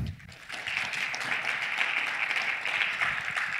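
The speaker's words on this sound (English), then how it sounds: "Let's give a round of applause to Jillian Lee Stout" An audience at a business conference applauds a speaker, a moderate, continuous spread of clapping that rises after a brief lull and holds steady, somewhat distant and soft.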